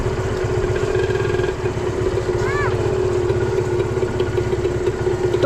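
A motorcycle engine idles with a steady low clattering throb close by, a brief rev rising partway through, while people talk over it outdoors at a sweet potato field.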